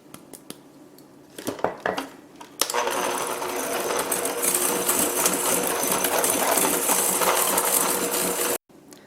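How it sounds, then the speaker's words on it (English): Nutmeg gets whisked into an egg mixture in a bowl for chocolate lava cake, first with a few clinks, then a fast, steady metallic whisking rattle against the bowl that stops abruptly near the end. "And we're going to mix it into the egg mixture."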